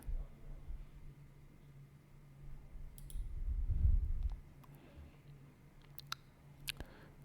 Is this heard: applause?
no